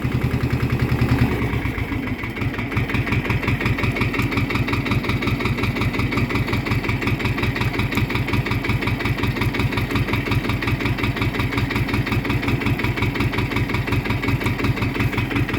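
A tractor engine in low gear chugs steadily and loudly throughout, with a regular low-pitched thumping rhythm after a brief change near the start.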